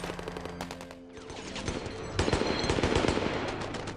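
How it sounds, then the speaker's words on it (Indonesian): Enemy gunfire in a battle with Taliban forces in Afghanistan: rapid bursts of automatic fire, loud and dense, easing briefly around the first second and then building into heavier continuous shooting from several guns. "Tembakan musuh datang dari berbagai arah."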